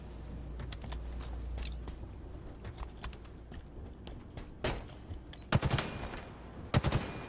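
Gunfire in a first-person shooter game during ranked play: scattered sharp shots with short bursts of rapid fire, the loudest volleys near the end, over a low steady game background.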